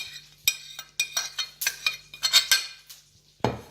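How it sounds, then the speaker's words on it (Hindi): Fish-free kitchen scene: a spoon scrapes and clinks against a bowl while spices are mixed into raw chicken for Mexican chicken quesadilla, a close, rhythmic run of metallic taps and scrapes with no talking. "चिकन में डाल के अब हमने अच्छे से इस सबको मिक्स करना है"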